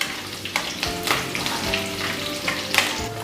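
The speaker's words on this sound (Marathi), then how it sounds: "त्याच्यानंतर आपल्याला लगेचच मिरची टाकायची आहे. ही थोडी परतवून घेऊया आपण" Green chillies sautéing in a pan crackle and sizzle up close, broken by several brisk stirring scrapes and knocks over a few seconds, with no voices.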